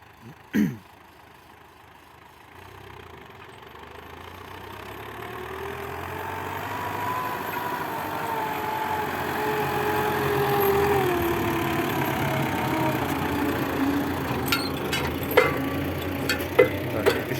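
A YuMZ 4x4 tractor engine rumbles and idles steadily throughout while working, slowly growing louder, with a sharp knock near the start and a few ticks toward the end.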